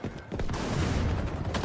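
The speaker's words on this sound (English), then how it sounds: "How the fuck is he shooting so fast?" Rapid video-game gunfire forms a dense, continuous roar of shots, fairly loud and unbroken for about a second and a half.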